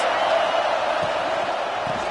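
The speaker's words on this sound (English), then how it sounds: "Big third down as the crowd gets behind this defense." A stadium crowd in the Madden NFL football video game, a steady broad roar of cheering before a big third down, with play-by-play commentary talking over it.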